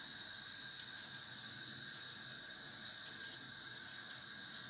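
Tap water running steadily into a kitchen sink while fresh ginger is washed, a soft constant hiss and splash heard close with no voices.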